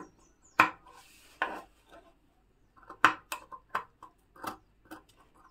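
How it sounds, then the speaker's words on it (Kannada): Cloth being cut to size for a small pouch, sounding as a series of sharp, close snips and taps on a work surface, spaced irregularly with short quiet gaps between them and no talking. "ಕರೆಕ್ಟಾಗಿ ಇಟ್ಕೊಂಡು ಕಟ್ ಮಾಡಿ ತೆಕ್ಕೋಬೇಕು."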